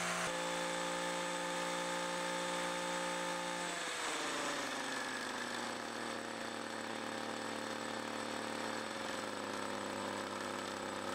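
Echo brush cutter engine running with a steady, loud two-stroke drone that shifts pitch partway through as the revs drop to a lower, rougher tone, alone without talk.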